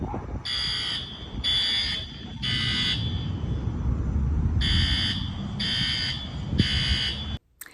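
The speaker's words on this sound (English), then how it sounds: "the fire alarm just went off" A school building's fire alarm sounds in repeated loud, shrill electronic bursts, three pulses, a pause, then three more, over a constant low rumble of background noise, ending abruptly.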